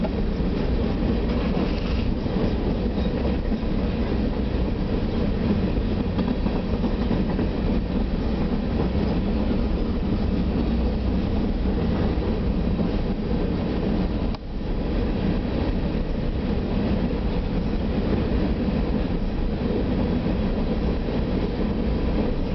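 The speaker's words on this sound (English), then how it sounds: "this is the uh, Union Pacific engine." A Union Pacific freight train rolls through Effingham, Illinois, giving a continuous loud rumble and clatter of wheels and cars that holds steady for over twenty seconds, with no talk.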